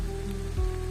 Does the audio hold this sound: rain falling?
yes